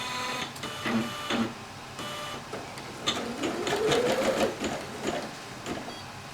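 Singer Legacy SE-300 embroidery machine stitching a design into a bulky fleece hoodie, a steady mechanical whirring and tapping that runs continuously at close range, with a brief rising whine partway through and no talking.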